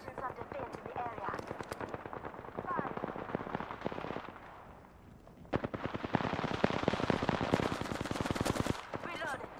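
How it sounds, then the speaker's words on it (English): Rapid automatic gunfire from the battle royale game Apex Legends, dense bursts of shots with a brief lull mid-clip before heavy firing resumes, loud and continuous, with a player's voice occasionally over it. "I'm getting shot at."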